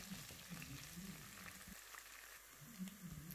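Onions frying gently in a pan, a quiet, steady crackling sizzle with soft stirring, heard close and alone without talk.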